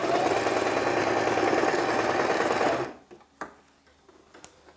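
A sewing machine runs fast and steady while stitching a fabric sleeve for a traditional outfit, a close mechanical whir that stops abruptly partway through, followed by a few faint clicks and handling sounds.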